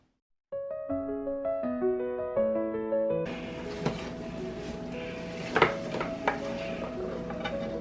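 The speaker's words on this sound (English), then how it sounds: "right now I'm going to start browning my ground beef so we can make tacos" Ground beef for tacos browning in a hot skillet, with a steady sizzle and fry under repeated stirring and scraping of the spatula against the pan. A soft melodic musical backing plays throughout.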